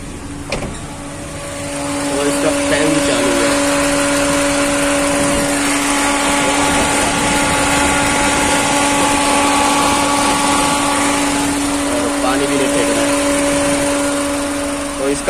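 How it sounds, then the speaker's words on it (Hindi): Radiator cooling fan running steadily on an overheating Maruti Suzuki SX4 at about 100 degrees, a loud continuous whirring hum with a steady tone that swells up after the first two seconds and holds. "क्योंकि फैन भी इसका चालू हो गया है"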